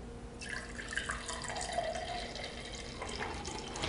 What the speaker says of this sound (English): So you see that the clear part of the juice is pouring out